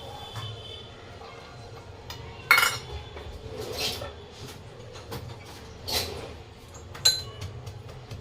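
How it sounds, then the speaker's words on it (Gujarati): Garlic pounded for kumbhaniya bhajiya in a home kitchen, heard as a few sharp, separate clinks and knocks spaced several seconds apart over a quiet, steady background. "હવે આપણે લસણ ખાંડી નાખશું"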